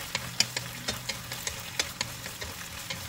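Marinated chicken for teriyaki sizzles in a pan under a steady soft hiss, broken by regular sharp pops and spatters, close and moderately quiet, with no voices.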